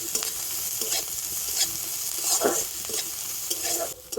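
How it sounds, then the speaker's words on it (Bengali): Onion and green chillies fry in hot oil, producing a dense, steady sizzle with a few stirring knocks and scrapes, loud and near. "পেঁয়াজ আর লঙ্কাটা তেলের উপর একটু ভেজে নেব।"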